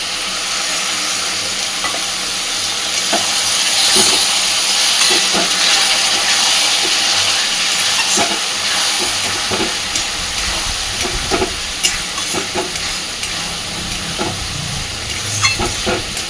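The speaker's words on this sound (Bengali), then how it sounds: "খুব সুন্দর করে এবার সব কিছুকে মশলার সাথে কষতে থাকবে মশলা যাতে পুড়ে না দেয় আমি এখানে অল্প একটু জল দিচ্ছি" Ground spices simmer and sizzle in a pan with a splash of water for a fish-head muri ghonto, a steady loud hiss with intermittent spatula scrapes and stirring knocks, no talking.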